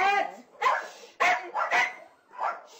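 Several dogs bark in short, loud bursts at a dog breeder's site housing around a hundred dogs, the yaps coming close together with a pause between groups.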